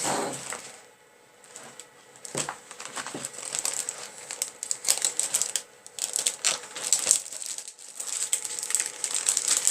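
Small plastic bags holding paper egg cutouts for a steampunk Easter card rustle and crinkle close by in a busy, continuous stream of light crackles and taps.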